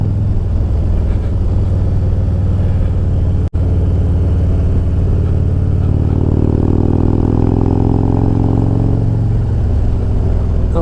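Harley-Davidson Road Glide Special with a Star Racing 30/30 cam, idling with a deep loud rumble and then revving lightly at about quarter throttle, the pitch rising and falling once partway through.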